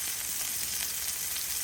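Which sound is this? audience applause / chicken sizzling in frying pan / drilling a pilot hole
chicken sizzling in frying pan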